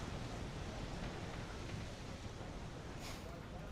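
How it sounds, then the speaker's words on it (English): Steady, loud wind roars across the microphone for the whole stretch, a dense rushing noise with no clear pauses. "Geez, that's windy."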